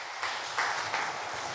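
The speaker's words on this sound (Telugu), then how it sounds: "చప్పట్లు కూడా దేవుని స్తుతిస్తారా?" Congregation clapping during a Sunday church service, a steady wash of applause with a few swelling bursts, moderately loud and fairly close, with no voices over it.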